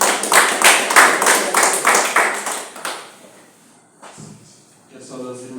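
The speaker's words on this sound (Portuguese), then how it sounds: "As palmas alegres para o Senhor." A church congregation claps together in a rapid, steady rhythm, loud and close for about three seconds before fading out, after which soft voices and a few quieter sounds follow.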